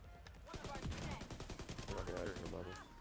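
Rapid bursts of gunfire and rocket blasts hit mortars in a raid shooter game, a dense, loud, continuous barrage of sharp reports.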